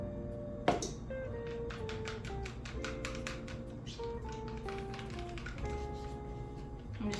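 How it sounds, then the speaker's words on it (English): A fork clinks and taps quickly against a bowl while mixing eggs into a lemon meringue pie filling, with rapid, irregular strikes that are close, fairly bright and heard alone. "I'm just mixing it together with a fork."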